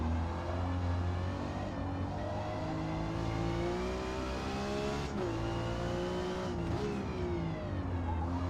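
A 90s Mazda MX-5 Miata engine in a Forza racing game, holding a steady droning note with a couple of brief shifts in pitch, loud and close, with no talk over it.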